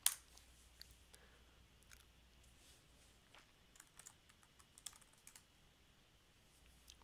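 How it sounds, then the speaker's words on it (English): A password is typed on a computer keyboard: a string of faint, quick key clicks in irregular bursts, with one sharper tap at the start, over a quiet room with no speech. "Type in that password for the user you reset earlier in the steps"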